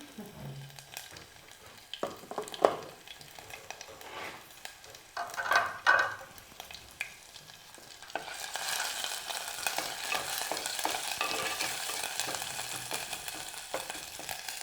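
Garlic and spices go into a pan on a home stove, with quiet scraping and a few clanks of a spatula at first, then a steady, louder frying hiss building through the second half.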